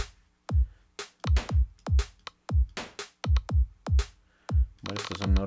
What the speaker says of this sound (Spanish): Y vamos a mirar de pronto un sonido de clap.